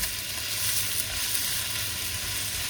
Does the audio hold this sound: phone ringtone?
no